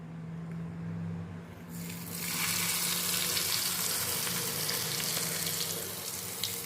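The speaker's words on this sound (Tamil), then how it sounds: "ஒரு இலுப்பச்சட்டியில் நல்லெண்ணெய் காய்ச்சின்னு இருக்கேன், கிளார் அடிக்கிறது. அந்த எண்ணெயை வந்து இந்த இதில் சேர்த்துடணும்." Hot gingelly (sesame) oil, heated in an iron kadai, hits kadarangai citron pickle with a sudden loud sizzle that swells after a quiet start and crackles steadily to the end.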